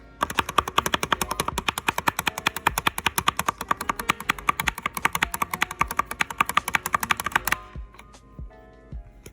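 Rapid, steady clicking of space bar presses on a SteelSeries Apex Pro gaming keyboard, a close, loud run of sharp keystrokes lasting about seven seconds before a few scattered clicks.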